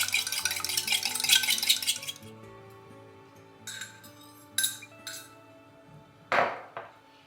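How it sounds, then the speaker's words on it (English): Two eggs are whisked in a bowl, a quick rapid clatter of metal against the dish for about two seconds, then scattered separate clinks and taps, close by and with no voices. "So whisk that up."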